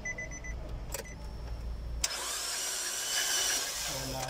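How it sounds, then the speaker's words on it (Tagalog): A 2020 Nissan Urvan's QR25 engine is turned over by the starter during a shop compression test on cylinder three. A steady, fairly loud mechanical whirring begins abruptly partway through after a few faint clicks and continues to the end, with no talking. "Ikutin natin ang makina kung tataas siya."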